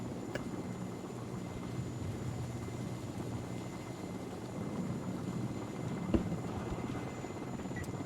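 Little Bird helicopters flying in the strategy game WARNO, a steady droning rotor hum with a faint thump partway through.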